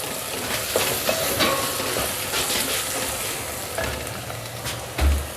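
Chopped garlic and ginger sizzle in a pot of hot oil for qeema matar, a continuous crackling fry with a few stirring scrapes and a low thump near the end, moderately close and with no voices.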